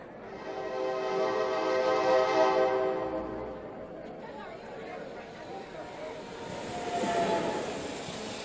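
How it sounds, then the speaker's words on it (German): An S-Bahn commuter train approaches with a rising rumble and a long sustained tonal whine or horn, then rolling wheel noise, loud and near; voices are heard briefly. "Schau mal, da kommt eine S-Bahn."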